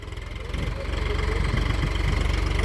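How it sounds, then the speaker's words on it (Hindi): A Swaraj 742XT tractor pulls a harrow across a field at about 1800 rpm in second high gear. Its loud, close diesel engine gives a steady throbbing chug that rises slightly in strength. "1800 चक्रों पे हैरो चला रहा है, बहुत ही बढ़िया।"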